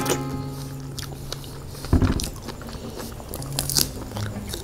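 A jumbo strawberry coated in powdered sugar is bitten and chewed up close, with a sharp bite followed by soft, wet crunching and mouth sounds over a low background hum.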